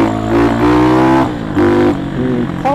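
Kawasaki D-tracker 292cc motorcycle with a high-lift cam and FCR carburetor climbing a mountain pass, its engine revving loudly and close, rising in pitch through repeated gear pulls with brief dips between.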